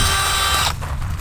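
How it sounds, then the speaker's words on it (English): Loud whirring drill motor driving a post hole digger attachment, running steadily while digging holes to plant potatoes, then cutting off abruptly partway through, leaving quieter outdoor noise. "It's a post hole digger for a drill."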